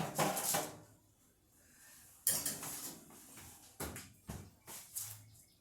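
Cookie trays go into a kitchen oven with a series of clanks, scrapes and thuds: a loud opening clatter, then a sharp knock, then several shorter knocks and a soft hum near the end.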